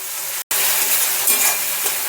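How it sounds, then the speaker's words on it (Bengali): Ginger and tomato frying in a small amount of oil, a loud continuous close sizzle and hiss, broken once by a brief dropout. "একটু অল্প পরিমাণ তেলে ভেজে নেব আদাটা"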